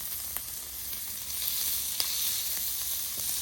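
Beef balls sizzle on a griddle on top of bacon for smash burgers, a steady bright frying hiss, close and even, with small pops now and then and no voices.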